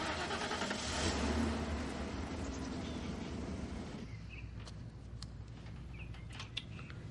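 A car engine runs loud at first, swelling to a peak and then fading as the car drives off, leaving a quieter outdoor background with scattered birdsong and small sharp noises.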